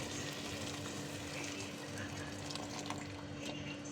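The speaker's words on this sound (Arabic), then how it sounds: "شايفين انا لسه نازله بالميه اهي" Boiling water poured into a pot of simmering boiled meat broth makes a steady, even rush and hiss with a faint sizzle-like bubbling, continuous and close throughout.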